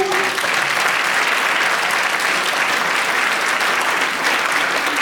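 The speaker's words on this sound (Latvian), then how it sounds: "vēlreiz skaļi aplausi, Sarmīt, tev par to" Dense, sustained applause from a concert audience at a dance group's 50th anniversary show, loud and even throughout, with no pauses.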